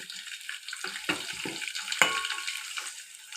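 Rice frying in ghee in a pan gives off a soft, close sizzle broken by a few scraping stirs and clinks, quiet and without talk.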